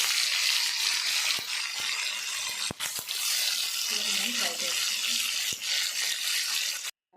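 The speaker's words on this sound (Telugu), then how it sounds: "ఇప్పుడు ఇందులోని నూనె వేసుకొని నేను చేప ముక్కలు ఎలా వేపుకోవాలో చూపిస్తాను" Fish pieces fry in hot oil in a kadai, giving a steady, dense hiss and sizzle close up that runs almost the whole way, with a few sharp clicks and short bursts of lower sputtering before cutting off abruptly at the end.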